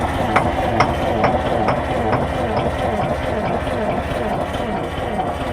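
A 10-wheel logging truck diesel engine cranks over repeatedly, a steady churning drone with rhythmic knocks, loud and close, while it struggles to start.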